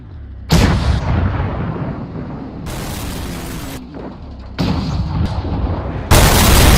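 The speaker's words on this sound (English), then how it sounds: "Can you help me destroy that big zombie from your gun?" Heavy gunfire in the BeamNG.Drive driving game aimed at a giant zombie tractor, heard as loud booming blasts with sustained roaring bursts, close and without talk.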